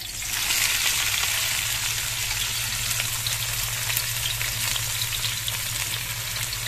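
Spices hit hot ghee and fry with a loud, steady crackling sizzle, a dense continuous hiss close up with a low hum beneath, lasting the whole time without speech.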